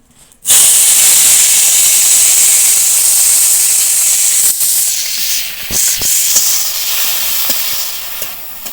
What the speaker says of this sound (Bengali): এবার ঢাকা দিয়ে ভাজবো